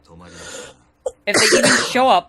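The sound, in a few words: sneeze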